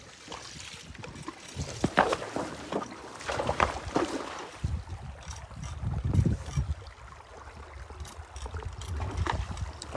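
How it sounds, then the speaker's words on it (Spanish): River water rushes and splashes close by during an afternoon horseback ride along the riverbank, with uneven surges of churning flow and a dog nearby. "Quiero que escuchen el agua."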